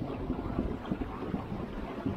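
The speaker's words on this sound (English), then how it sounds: "It's coming out of the ground superheated. As soon as it hits this cold water, it flash boils." Superheated geothermal water flash-boils as it meets a cold stream in Iceland's Kerlingarfjöll highlands, giving a continuous close, rough hissing and bubbling roar with irregular surges and no talk.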